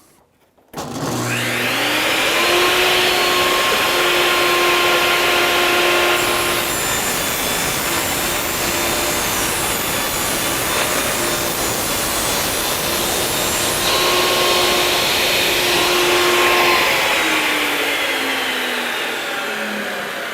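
Table saw ripping a plywood panel for a tool chest: a sustained, loud whining cut with the blade spinning up at the start, holding steady for about eighteen seconds, then winding down at the end.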